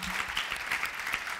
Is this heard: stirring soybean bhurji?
no